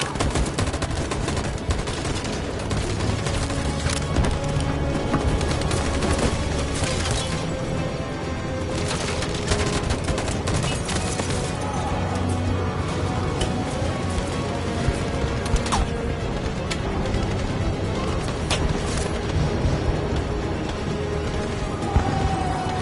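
Dense, continuous gunfire from many weapons in the video game Detroit: Become Human, a loud sustained barrage of rapid shots and crackling bursts that fills the whole stretch without pause.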